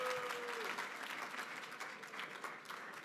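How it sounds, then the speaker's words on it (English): Audience at a celebration dinner event claps steadily, a moderate wash of applause from a crowded room that holds for the whole stretch. "Anyone going to clap for Menachem?"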